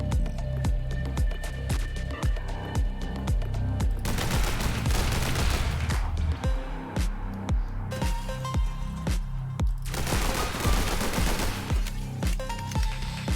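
Pistol gunfire in The Hong Kong Massacre cracks out in a steady, rapid string of loud shots over a thumping low game soundtrack, continuing throughout.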